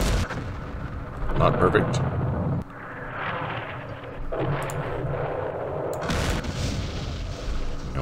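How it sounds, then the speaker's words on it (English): Mortar and artillery fire from the Campaign Series West Front war game on D-Day at Omaha Beach rumbles in heavy booming bursts and continuous battle noise, with a voice speaking briefly over it. "First, we're going to start taking out some mortars."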